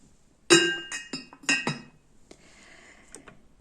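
A porcelain teapot gives ringing clinks, a few sharp taps in quick succession followed by softer light knocks, close and resonant.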